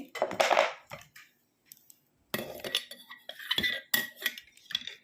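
A spoon clinks and scrapes in a bowl of homemade kasundi mustard sauce, several close metallic clatters in short bursts separated by a brief quiet pause.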